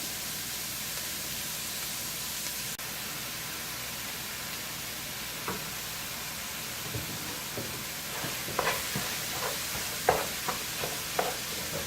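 Ground meat and sausage browning in a pan for lasagna, a soft, steady hiss of sizzling with sparse utensil scrapes and taps that grow more frequent toward the end, no voices.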